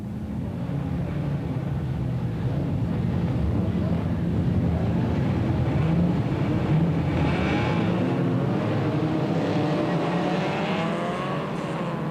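Formula Ford race cars at a 1994 motor festival start and pass, a steady broadband engine roar with rising and falling pitch sweeps as cars come by, continuous throughout at moderate level.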